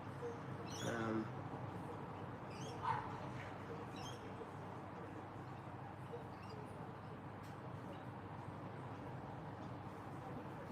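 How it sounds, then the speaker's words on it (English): A dog barks faintly in the distance, a couple of short yips heard over steady background hiss and room noise. "I heard a dog bark"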